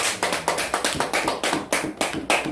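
A church congregation gives a short burst of thankful clapping, a fairly close, rhythmic run of hand claps with roughly three to four beats per second, heard alone without talk.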